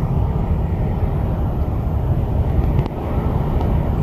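A 2020 Mercedes Actros truck rolling along, a low steady rumble of engine and road noise from inside the cab, with wind buffeting and no talk.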